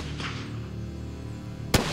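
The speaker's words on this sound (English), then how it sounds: "sighting in his rifle before the hunt is always essential" A single sharp, loud hunting rifle shot cracks out near the end while the rifle is being sighted in before a hunt, after a quiet stretch of low outdoor rumble.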